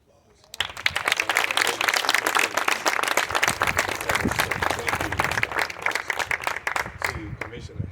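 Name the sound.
audience applause at groundbreaking ceremony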